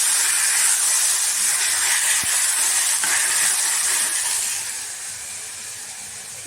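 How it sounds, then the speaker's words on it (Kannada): Raw banana pieces frying in a hot tempering of oil give a loud, steady, close hiss of sizzling that holds evenly for most of the stretch, then eases slightly toward the end. "ಇದು ಸ್ವಲ್ಪ ಒಗ್ಗರಣೆಯಲ್ಲಿ ಫ್ರೈ ಆಗಲಿ."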